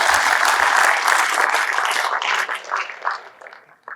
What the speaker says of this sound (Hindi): ताली बजा यार, अच्छी बातों में ताली नहीं बजाते